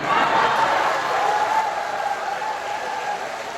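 Audience at a Catholic parish lecture in Incheon applauding and cheering, a dense, sustained burst of clapping with crowd voices that stays loud for the whole stretch and eases slightly toward the end.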